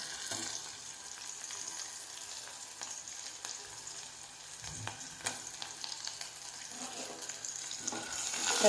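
Ginger garlic paste frying in a pan, a steady crackling sizzle with occasional stirring scrapes that swells louder toward the end.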